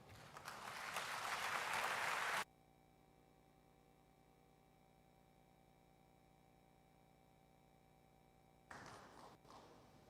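An audience at a university graduation ceremony applauds loudly for a couple of seconds, the sound cuts to a low hum, and the clapping picks up again near the end.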